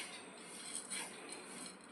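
Spices for mango pickle dry-roasting in a pan, giving a steady, close, scratchy rustle with faint metallic scraping throughout and no voices.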